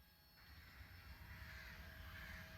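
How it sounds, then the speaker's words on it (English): Crows cawing in an audio drama scene as characters leave an asylum, a steady layered chorus of calls that swells and grows louder over a low ambient rumble, with no voices. "the crows, as you leave, get louder"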